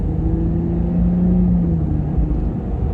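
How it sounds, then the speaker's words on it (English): A RAM 1500 Hurricane pickup with a Flowmaster Signature Series catback exhaust pulls under throttle. From the cabin it is a steady, loud, low droning rumble with a faint tonal whine over it, and no talk. "As soon as you start giving it gas though, I can already hear it's louder for sure."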